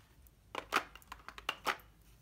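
Wax colored pencils rubbing over paper with light pressure, giving a quiet series of short, soft scratchy strokes at an irregular pace.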